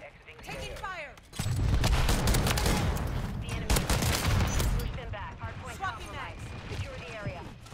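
Dense gunfire in the Call of Duty MW3 shooter game, a long burst of rapid shots from about the second second onward, loud and close, with a voice talking over the shooting before and after it.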